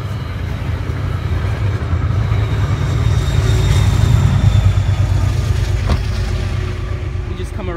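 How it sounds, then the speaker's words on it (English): A Metro North commuter train rumbles past outside a parked BMW, a steady low roar that swells toward the middle and slowly fades, with no clear talk over it. "There's the Metro North going by."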